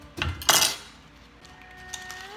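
A knife slices through the heads of bok choy on a cutting board, giving a couple of sharp close chops and knocks followed by quiet handling, with no voices.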